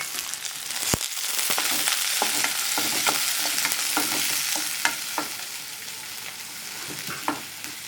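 Green chillies sizzle and fry in a pan for a broccoli curry, with steady close crackling and occasional spoon scrapes and taps as the pan is stirred.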